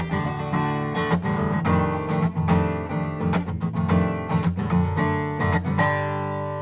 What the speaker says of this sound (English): so I'm just going to strum here for a little bit.